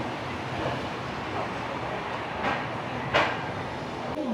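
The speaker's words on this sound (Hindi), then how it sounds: "नई दिल्ली से डिपार्चर हो चुकी है हमारी ये यशवंतपुर सुपरफास्ट एक्सप्रेस" The Yesvantpur Superfast Express rolls out of New Delhi, a steady rumbling rush of a moving train heard from inside, with a couple of brief clanks from the carriages.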